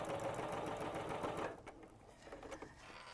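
A sewing machine stitches a quilt in a fast, steady whirring run up close, then stops halfway and leaves quieter room sound with a few faint knocks and clicks.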